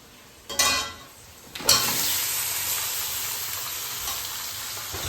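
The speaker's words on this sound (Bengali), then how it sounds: "চিকেনটাকে একটু ভাজা হতে দেব।" Chicken dropped into a hot pan of deep-fried red onions with garam masala and salt, giving loud bursts of sizzling at the start that settle into a steady, close frying hiss.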